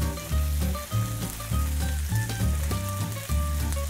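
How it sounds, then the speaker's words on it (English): Butter melting and sizzling in a single pan beside chicken and asparagus, a steady close crackling fry with rhythmic bursts of bubbling and no voices. "And let that butter melt."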